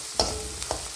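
Small onions sauté in a hot pan for a chicken curry with curry leaves and pepper, a steady close sizzle broken by a few brief stirring scrapes, no voices.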